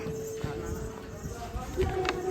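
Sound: horses walking on pilgrimage path

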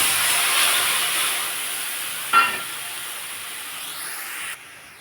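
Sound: tamarind puree added to hot pan, sizzling

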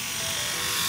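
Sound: Philips Series 7000 electric shaver switched on

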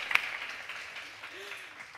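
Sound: audience applause

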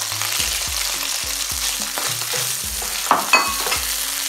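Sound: anchovies and onion frying in a pan while being stirred

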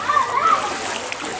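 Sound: splashing through flooded river water

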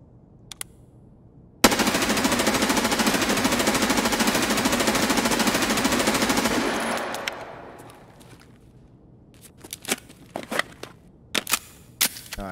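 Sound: unsuppressed gunfire in video game Escape From Tarkov

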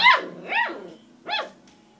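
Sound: dog barking

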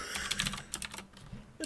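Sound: typing on a computer keyboard

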